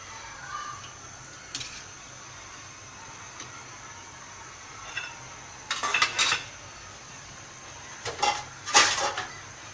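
A spoon scrapes and clinks against a metal pot while salt and spices are mixed into keema, a few sharp clattery bursts over a quiet kitchen background.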